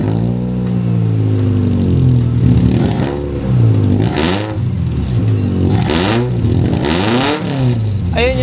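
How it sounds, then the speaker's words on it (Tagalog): A Toyota MR2 with only a resonator fitted on the exhaust revs repeatedly, a loud, close engine rising and falling in several throttle blips with a deep, clattery tone. "iparinig ko na muna sa inyo yung tunog nitong exhaust niya ngayon. Na resonator pa lang yung nakalagay."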